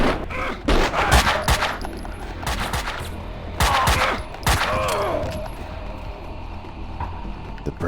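Gunfire in Max Payne 2 on Xbox: several loud, close bursts of shots with sharp cracks, broken by short gaps, then a steadier mechanical rattle and noise that fade out toward the end.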